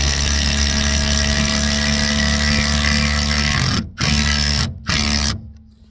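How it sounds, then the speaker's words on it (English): A power driver whirs loudly and continuously as it sinks a lag bolt fastener with a washer into wood, with two brief stops before the motor winds down and cuts off. "Then you're going to drive your fastener."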